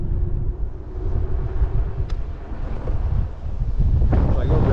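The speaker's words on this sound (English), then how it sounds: "Oh man, that wind is crazy." Strong wind buffets the microphone during an e-bike ride near an NFL stadium on opening day, a constant loud low rumble with gusting roar throughout and no clear talk.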